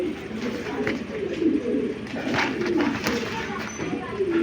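Racing pigeons of the Giribaz breed coo steadily in a low, continuous murmur at a seller's loft, several birds overlapping close by with a faint voice in the background.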